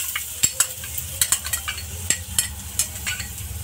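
Finely chopped onion sizzles in hot oil with browned garlic while a spoon stirs, a steady close frying hiss broken by repeated scraping clatters against the pan.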